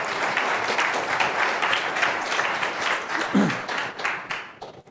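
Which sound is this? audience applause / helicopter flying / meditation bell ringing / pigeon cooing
audience applause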